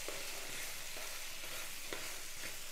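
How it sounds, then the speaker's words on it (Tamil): Okra dusted with turmeric sautés in a pan over medium heat, giving a steady close sizzle broken by soft, regular scraping strokes from stirring. "ஒரு 1/2 ஸ்பூனுக்கு மஞ்சள் தூள் இதை போட்டு இப்போ நல்லா வதக்கிடலாம்."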